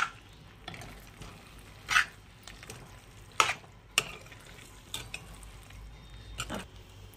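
Garlic fenugreek leaves stirred in a pan over low heat, with a soft continuous sizzle broken by intermittent spatula scrapes and clicks against the metal, close but fairly quiet.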